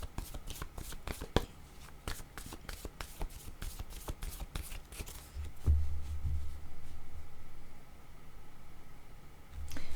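A deck of playing cards is shuffled and riffled close up, a quick run of sharp crisp flicks. It gives way to softer handling noise and low rumbles, and a brief riffle comes back at the end.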